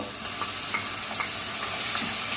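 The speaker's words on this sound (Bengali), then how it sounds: "পেঁয়াজটাকে দিয়ে দিলাম এটাকে আমি এক থেকে দুই মিনিট একটু ভালো করে ভেজে নিব" Grated onion sizzles in hot oil with whole spices while being stirred for a Bangladeshi beef curry, a steady close frying hiss broken by soft scraping strokes of a spoon in the pan.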